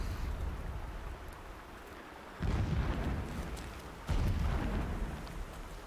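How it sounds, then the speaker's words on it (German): Explosions rumble in the video game Horizon Zero Dawn, with two deep booms landing over a steady low background roar. "ich höre hier die ganze Zeit irgendwie Explosionen, Schüsse, irgendwie sowas."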